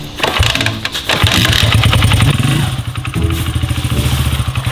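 Loud, close engine of a 250 dirt bike revving in repeated bursts, the throttle blipped and held, its raspy two-wheeler note rising and dipping with a few clattering thumps.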